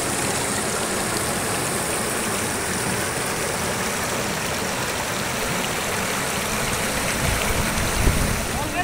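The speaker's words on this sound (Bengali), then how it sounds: "এবার আমরা চলেছি নদীটা দেখতে। নদীটা যে বয়ে চলেছে এবং ঝর্ণার জল সবটাই দেখবো।" A river and waterfall at Sittong in Darjeeling rush in a steady, loud, broadband wash of flowing water that holds unbroken throughout.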